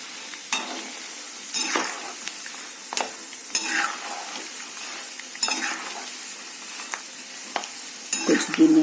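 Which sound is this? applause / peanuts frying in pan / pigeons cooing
peanuts frying in pan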